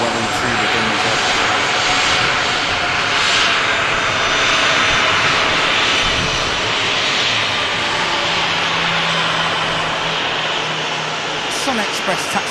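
A SunExpress airliner taxiing past at Manchester Airport's runway visitor park, a loud, steady jet engine roar that holds throughout at close range.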